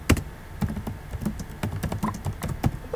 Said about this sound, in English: Are you typing the Discord right now?